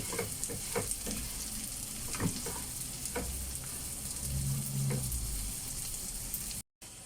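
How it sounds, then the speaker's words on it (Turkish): Rice toasting in a pan for kavurmalı pilav, a steady sizzle and fry with stirring scrapes, continuous and close, briefly cutting out near the end. "Pirinçleri biraz kavuruyorum ondan sonra."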